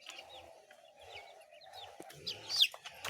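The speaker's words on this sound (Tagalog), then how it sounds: "Ayan po ang ating mga alagang manok. Nagbubugbugan na rito." Pet chickens scuffle and squabble, letting out scattered clucks and sharp squawks that rise to a louder burst near the end over a quiet yard background.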